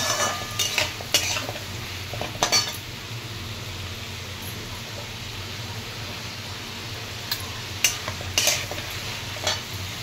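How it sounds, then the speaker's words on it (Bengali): Ash gourd pieces, salted and seasoned with turmeric for a hilsa fish head dish, sizzle softly in a pan. A utensil repeatedly scrapes and clatters against the pan in short, close bursts over the steady frying hiss. "চাল কুমড়োগুলো একটু ভাজা ভাজা হয়েছে"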